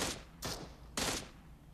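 A pistol fires three sharp shots in a video game, spaced irregularly about half a second apart. The shots are loud and close, over a faint steady background.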